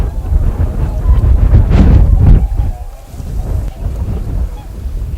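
A flock of swans gathers at feeding time on the Nakdong River estuary, loud honking calls crowding together close by, mixed with rustling wind noise on the microphone.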